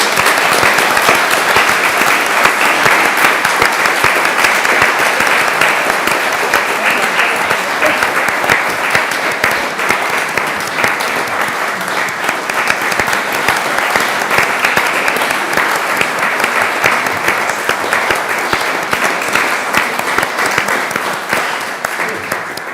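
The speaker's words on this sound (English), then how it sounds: "So if we could give her one more round of applause." A large audience at an evening event on portrait conservation keeps up loud, dense, continuous applause for over twenty seconds, an even wash of many hands clapping with no pause.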